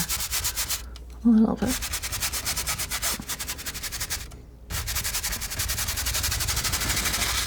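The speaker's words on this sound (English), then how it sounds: "Just kind of scrubbing around, trying to fill in these areas that" A palette knife scrubs paint across a canvas in a cat-in-the-sun painting, a close, rhythmic scraping rasp in quick repeated strokes that pauses briefly while a soft voice speaks.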